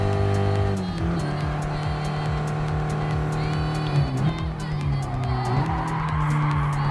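Race cars roaring around the track in Gran Turismo Sport, engines droning steadily with rising and falling pitch as cars pass and shift, loud and continuous with a crowd faintly audible underneath.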